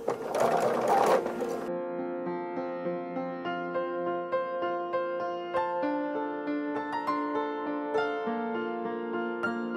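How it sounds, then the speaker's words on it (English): A sewing machine chain stitching quilt half-square triangles, a steady rhythmic whirr with a brief louder burst at the start, heard beneath background music. "So I'm just going to chain stitch these."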